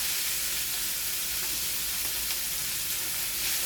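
Tomatoes for pakbet sizzle in a hot pan, a steady close frying hiss throughout with no pauses.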